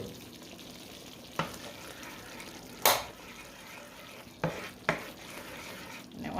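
Taco seasoning stirred into a casserole mixture, soft wet scraping and squelching under a low sizzle, punctuated by a few sharper spoon knocks against the dish.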